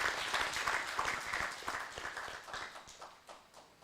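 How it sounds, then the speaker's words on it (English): An audience at an agricultural symposium applauds a woman named Agnes as she returns to her seat, a steady wash of many hands clapping that slowly thins toward the end. "Let's give her another round of applause as she takes a seat"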